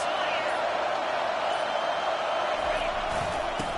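Nebraska football stadium crowd roaring on a third down, a dense steady wash of cheering and noise from a large crowd, with faint commentary beneath.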